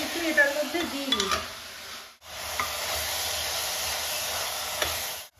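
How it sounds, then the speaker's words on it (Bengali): Whole spices, green and black cardamom, cloves and cinnamon, stirred into hot oil with onions in a pot for mutton curry, a steady close sizzle with scraping stirs, a brief gap and then continuous hiss. "এবার আমি এর মধ্যে বড় এলাচ, ছোট এলাচ 3টে, বড় এলাচ 1টা, 2টো লবঙ্গ, 4টের মতো দারচিনি দিয়ে দিচ্ছি, আবার মিশিয়ে নেবো"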